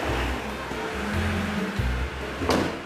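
A Honda NSX Targa's engine cranks and catches after a couple of years unused, giving a low rumbling idle with a rising burst of noise near the end, heard close up and without talk.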